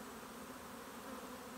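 Honey bees swarm around an open hive on a bee farm during a two-queen hive inspection, a dense, steady, close buzzing drone that fills the whole stretch without pause.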